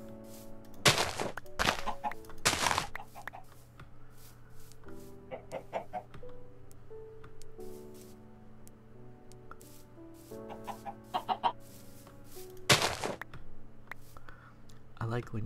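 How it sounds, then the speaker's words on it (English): Chickens in a farming video game cluck in scattered short bursts among soft background music, mixed with keyboard clicking and occasional mouse taps. "Look at all the chickens."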